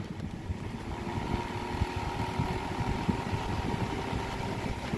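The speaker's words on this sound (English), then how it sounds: "This one motor makes a lot of noise, but yet it's really well oiled." A vintage Lakewood model T99 motor runs steadily on its high setting, giving a continuous close, noisy drone with a low rumble and a faint whine.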